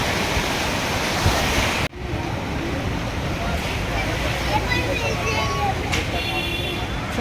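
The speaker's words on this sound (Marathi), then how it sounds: "लाटा बघा कशा दिसत" Sea waves washing on the Mumbai shore near Shah Rukh Khan's bungalow, heard as a loud, constant roar of surf with wind, briefly interrupted and then resuming, while people talk nearby.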